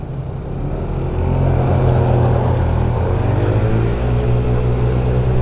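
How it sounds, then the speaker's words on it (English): A car engine hums steadily close by, rising slightly as it draws near and passes alongside a 50cc GY6 scooter on a windy California road, with continuous low rumble and wind noise throughout. "I'm gonna let this car go that's behind me."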